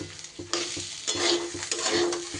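Dalia khichuri fries in a pan as cumin powder is stirred in, a close sizzle broken by quick, regular spatula scrapes and knocks against the pan, with no speech.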